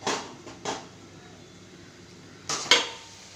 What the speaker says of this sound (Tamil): தாளித்து ஊற்றி கொதிக்க வைக்கணும் குழம்பு